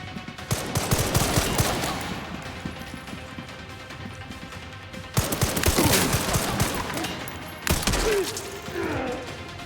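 Rifle fire in Resident Evil Requiem, loud bursts of shots in three clusters with sharp cracks, thuds and breaking debris between them, close and harsh over a dark game backdrop.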